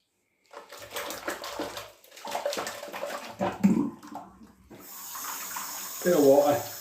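Water runs and splashes from a tap in short bursts, with handling clatter and a steadier gush toward the end.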